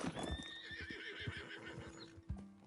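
Horse in the Red Dead Redemption II video game neighing with a long whinny, accompanied by clip-clop hoofbeats thudding at a steady pace, close and clear.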